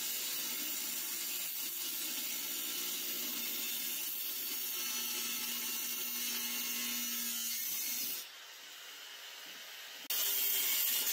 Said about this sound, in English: I'll work on cutting it close to the weld, and then I'll just cut by the weld and peel it off